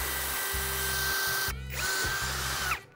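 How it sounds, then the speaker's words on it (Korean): A power drill fitted with a drill bit bores out a rivet, whining steadily and loudly up close, then pausing briefly and spinning up again for a second run before it stops. "이렇게 구멍을 뚫어주시면 리벳 하나가 제거가 됐고요."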